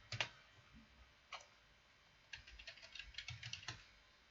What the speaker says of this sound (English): Oops, typed my password wrong.